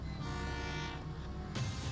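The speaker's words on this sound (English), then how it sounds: "There's a train approaching." Train pulling into a station, a steady rumbling roar of rail cars with tonal horn-like hum layered over it and a sharp burst of noise near the end, loud and continuous with no talk.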